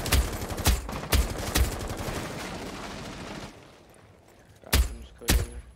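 Silenced BB DMR fired in a video game, several sharp suppressed shots in quick succession, a pause, then two more cracks, fairly loud and without talk.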